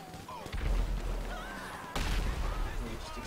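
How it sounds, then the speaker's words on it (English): Two deep, booming explosions from Grand Theft Auto with a riot mod, each a sudden burst followed by rumbling, with voices underneath. "explosions everywhere. Just explosions everywhere."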